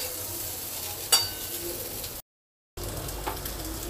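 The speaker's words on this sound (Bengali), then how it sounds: "তাই এই সবজিগুলোকে একটু হালকা ভেজে ভেজে নিচ্ছি" Vegetables lightly frying in a pan for a Bengali shukto with fish head, before the ridge gourd goes in: a steady, close sizzle with a brief stirring scrape, a short silent break, then the sizzle carries on.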